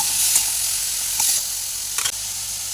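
Tomatoes sizzle and crackle in a hot pan of oil while being stirred for shevbhaji, a steady close frying hiss broken by a few brief scraping stir sounds.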